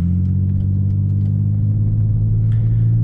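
A 2003 Mercedes C240 W203 engine idles at low revs, a deep steady hum close by, with faint clicks on top.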